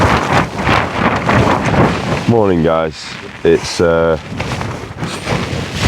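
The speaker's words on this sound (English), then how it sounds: "the gusts, these are like 70 km/h gusts at least" Strong gusts of around 70 km/h batter the microphone on an exposed summit near a tent at dawn, a constant loud roar and buffeting, with someone speaking briefly in the middle.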